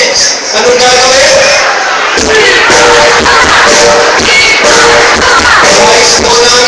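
A crowd on a footbridge at a rally against the RH Bill shouts in unison, a loud, dense, continuous roar of many voices with rhythmic chant-like swells.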